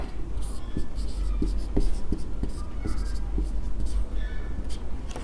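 A pen scratches across paper while someone writes out a triangle congruence proof for a class-9 geometry lesson. Short, repeated strokes come close and clear over a low hum, with a voice speaking in the background.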